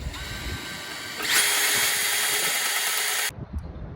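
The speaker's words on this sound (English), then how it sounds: "drill a hole through till the other side" A power drill whirs steadily at high speed, getting louder as it bites into a net post for a couple of seconds, then cuts off abruptly.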